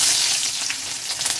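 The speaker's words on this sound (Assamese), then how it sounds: "এতিয়া দিলোঁ মই পিঁয়াজ।" Onions hit hot oil with dried chillies in a pan and fry with a bright, continuous crackling sizzle, close and loud for the brief moment, with no voices.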